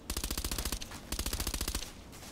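Rapid bursts of automatic fire from an FN P90 submachine gun in the shooter game Contract Wars, two long strings of quick, evenly spaced shots separated by a brief pause, loud and up close.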